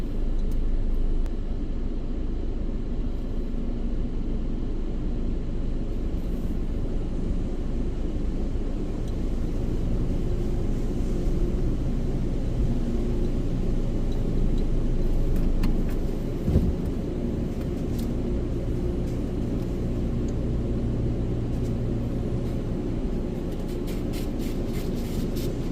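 An automatic express-tunnel car wash at Fast5Xpress in Murrieta runs its Platinum Wash, giving a loud, steady, broadband rumble of machinery and spraying water that carries on unbroken for the whole stretch, with no talking.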